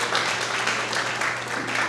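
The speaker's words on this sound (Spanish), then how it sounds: "a quien recibimos con un fuerte aplauso" An audience applauds at a Dominican sports hall of fame ceremony, a steady wash of clapping for the full two seconds.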